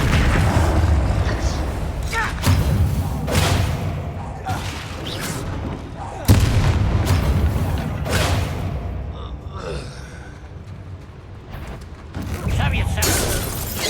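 Confringo blasting spell explosions in Hogwarts Legacy: several sharp bursts and crackling impacts at irregular intervals, loud and close, with mechanical clatter between them and a softer lull before a final blast.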